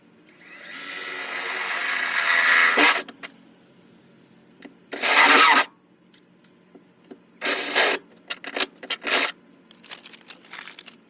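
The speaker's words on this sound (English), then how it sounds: "as many holes as we need to drill" A power drill whines through metal on a tandem trailer in several bursts, a long run followed by shorter spurts, loud and close with quiet gaps between.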